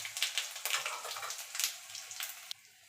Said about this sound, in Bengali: তো ফোড়নটা একটুখানি ভাজা ভাজা করে নেব।